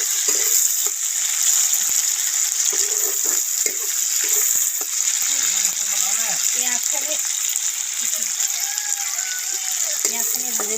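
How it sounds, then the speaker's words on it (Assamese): Onions fry in oil in a kadai, a loud continuous sizzle close up with occasional stirring scrapes, and a person talks over it throughout. "প্ৰথমতে আগতে পিঁয়াজখিনি ভাজি লোৱা হ'ব"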